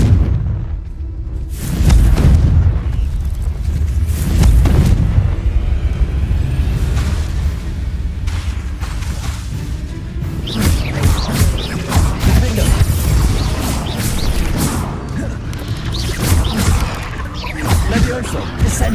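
Confringo fire-blast spells explode in a Harry Potter video game, heavy booming blasts and crashing impacts that repeat loudly over a continuous rumbling battle din, with speech mixed in.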